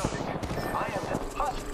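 Enemy gunfire in the Overwatch video game, a dense, continuous spray of shots mixed with game noise, moderately loud, with a voice talking underneath.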